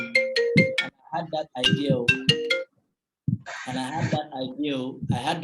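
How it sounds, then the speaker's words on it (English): A mobile phone ringtone plays in repeated bright chiming bursts near the start, pauses, then sounds again while a person keeps talking over it. "that's my phone ringing"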